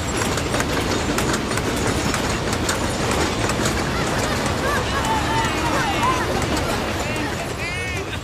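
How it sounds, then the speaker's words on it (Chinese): A train clatters past in an animated film, a loud, dense, continuous rumble with rapid clickety-clack beats and faint squealing tones near the end. "火车！"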